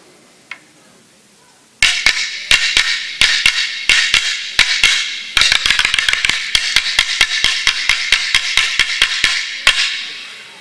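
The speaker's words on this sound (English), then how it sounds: "So that's the sound of a real boomerang" Handmade Aboriginal boomerangs, traditional wooden ones made by an artist's family, clapped together in a steady rhythm of sharp, loud wooden clicks, with a quicker burst of strikes midway, close and alone without talk.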